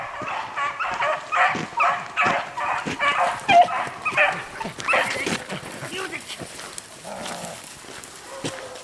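Hunting dogs chasing a hare bay and yip in rapid, overlapping bursts at a moderate distance, with someone talking over the pack.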